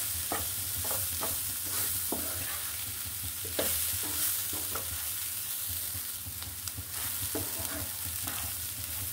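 Dry lentils frying in a pan for a vegetarian dal, a continuous sizzle under repeated sharp scraping strokes of a spoon stirring them, close and busy.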